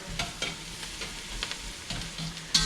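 Garlic and shallots sizzle in a pan over medium-high heat, a steady soft crackle broken by several stirring scrapes, close and without talk.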